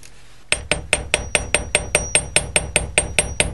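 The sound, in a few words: chasing hammer striking wire loop on bench block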